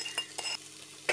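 Eggs are stirred into fried rice in a hot pan, with a brief run of close metallic scrapes and taps over a faint sizzle, quiet and without talking.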